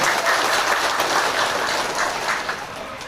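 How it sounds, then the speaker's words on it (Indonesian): Audience applause at a restorative justice house inauguration ceremony in a village, a short burst of steady crowd clapping, fairly loud and close. "Tepuk tangan buat beliau-beliau."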